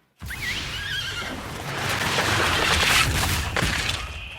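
A horse whinnies in the MTG Arena card game, a loud shrill neigh followed by a dense burst of clattering hooves and crashing effects lasting several seconds.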